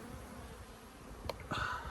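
Honey bees buzz steadily and close during a hive inspection, a dense continuous drone that thickens with a louder surge near the end, with no talking.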